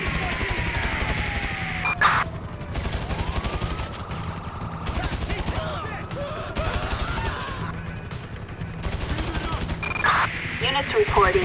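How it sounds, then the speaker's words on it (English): Rapid gunfire erupts during a police chase in Grand Theft Auto V, with bursts and scattered shots over a rising and falling police siren, crashes and steady engine and street noise, and dispatch-style voices partly audible beneath. "Shots fired at an officer in Northern Davis."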